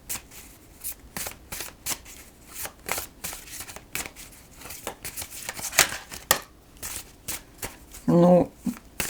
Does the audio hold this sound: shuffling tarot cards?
yes